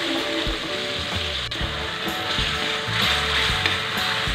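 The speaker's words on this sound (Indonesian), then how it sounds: "Oke teman-teman, langkah selanjutnya sekarang kita tumis bumbu yang tadi sudah di blender." Blended spice paste sautés in a pan, a steady close sizzle and crackle with clattering, rhythmic stirring noises running throughout.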